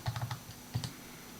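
Keystrokes on a computer keyboard: a quick run of four close taps, then a pause and two more taps, fairly near and clear against a quiet room with no talking.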